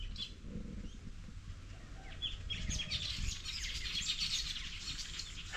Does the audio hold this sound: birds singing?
yes